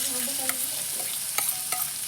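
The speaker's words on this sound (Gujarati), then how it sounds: "આપણે જે ડુંગળી, ટમેટાં એ બધું કાપેલું હતું તેને આમાં ધીમે ધીમે નાખવાનું" Chopped onions and tomatoes going into sizzling masala for street-style Chinese Maggi, with steady frying hiss, a few spoon scrapes and clinks, and no talk.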